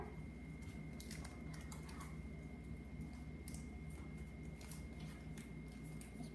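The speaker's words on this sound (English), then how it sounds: "You want to just use the scissors like Brayden Cooper's doing?" Scissors snip open a Pokémon card pack in a series of quiet, crisp clicks and crinkles, irregularly spaced over a low steady hum.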